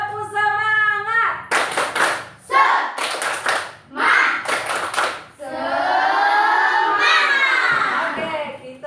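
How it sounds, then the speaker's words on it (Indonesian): Children do a rhythmic spirit clap, a group of young voices chanting in sing-song bursts between sharp clusters of hand claps, with loud group clapping and shouting near the middle. "Tepuk semangat."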